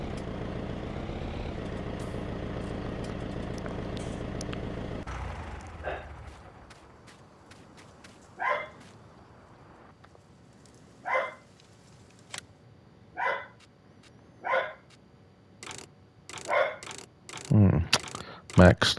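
Farm dog in Farming Simulator 19 barking in a handful of separate, fairly close yaps at the end, following several seconds of low vehicle engine rumble that fades out.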